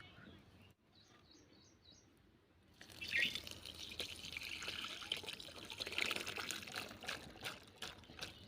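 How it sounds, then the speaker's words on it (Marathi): Water drained off boiled raw mango seeds, a steady close trickle and splash of pouring liquid that starts after a quiet opening, with faint birdsong in the background. "आता हे पाणी आपण काढून टाकणार आहोत"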